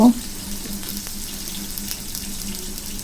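Water poured and stirred into a ground ginger, cumin, chili and turmeric paste, a soft continuous trickle and slosh close by after a brief louder splash at the start.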